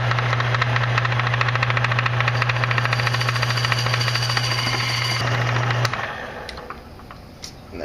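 A workshop lathe spins while cutting an aluminium bottle, giving a loud, steady mechanical hum and rattling buzz that runs for about six seconds, then winds down, leaving quieter room noise.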